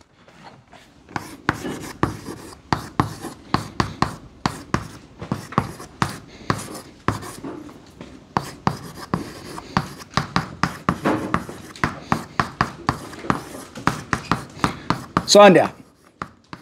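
Handwriting notes with a pen on paper, rapid scratchy strokes and taps repeating steadily and close by, with a brief voice near the start and a longer squeak or scrape near the end.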